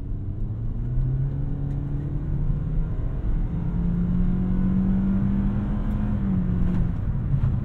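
Inside a 2016 Toyota Corolla with 49,000 miles, accelerating from 10 to 50 on a highway: a steady engine drone rises in pitch through gear changes over a constant road rumble and whir, with no talk.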